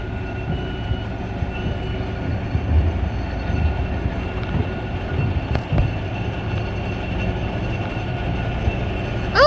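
A diesel switcher locomotive at the Georgia State Railroad Museum idles with a steady low rumble, with faint metallic clanks and a brief squeal near the end.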